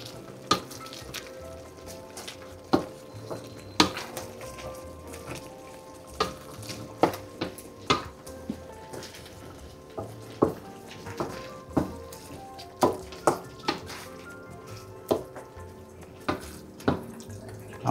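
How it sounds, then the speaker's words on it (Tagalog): Creamy laing, taro leaves in coconut milk, is stirred in a pot over low heat, with repeated sharp scraping knocks of the spoon against the pot over a soft simmering bubble. "Ngayon pa lang natin hahaluin."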